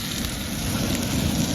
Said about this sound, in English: Got those burgers frying up.